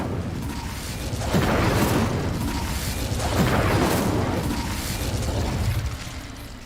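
The Incendio fire spell in Hogwarts Legacy bursts out in a couple of loud, whooshing eruptions over a constant roaring bed of game ambience.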